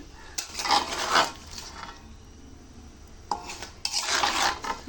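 A spoon scrapes and stirs thick ripe-mango and ginger murabba in a cooking pot, two separate bursts of gritty scraping and clinking with a quiet pause between them.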